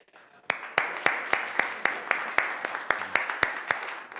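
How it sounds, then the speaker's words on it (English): Audience at a panel on environmental comedy clapping, though the sound is a series of sharp, evenly spaced claps roughly every third of a second, loud and close, more like one or a few people clapping rhythmically than a crowd. "so I hope you join me in a round of applause"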